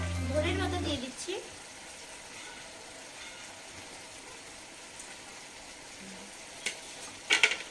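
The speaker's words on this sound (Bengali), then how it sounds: "নেড়ে দিব।" A spoon stirs a pot of boiled desi chicken curry with chopped coriander leaves, a short scraping clatter up front, then a low simmering bubble with faint knocks and a late clink.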